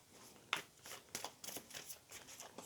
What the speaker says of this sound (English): Just gonna shuffle the cards a little bit.